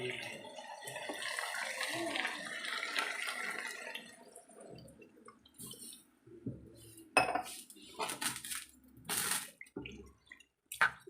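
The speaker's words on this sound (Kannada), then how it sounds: "ಅದಕ್ಕೆ ನಾನಿವಾಗ ನೀರನ್ನು ಹಾಕ್ಕೋತಾ ಇದ್ದೀನಿ" Water is poured into a pan of potato gravy, giving a steady, close rushing splash for several seconds that then gives way to scattered clinks of utensils against the pan and a few drips.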